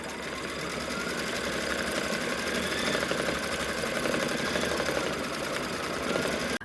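An embroidery machine stitches a placement line in light pink thread for two flower shapes on a quilt block, a steady close mechanical whirr running throughout with no talk.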